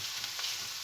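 Ground beef steaks crushed and stirred in a hot pan for moussaka, a soft, steady sizzle with faint scraping, close and quiet.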